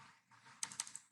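A computer keyboard is used to type a program name, a short close burst of four or five quick key clicks after a brief soft shuffle.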